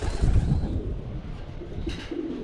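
Pigeons kept by a farmer give a few low, soft coos close by, a brief burst early on, set against quiet background hum.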